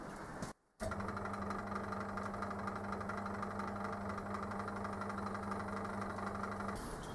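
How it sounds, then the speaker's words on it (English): A lathe runs steadily with a low, even drone while a 6mm drill bores a pilot hole held in the tool post, broken by a brief silent gap near the start. "I'm going to do a pilot hole with a 6mm drill"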